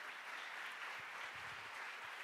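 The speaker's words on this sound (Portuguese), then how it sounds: "Dá uma salva de palmas ao Senhor." A church congregation at a Sunday morning service applauds in a steady, faint, distant wash of clapping that continues unbroken throughout.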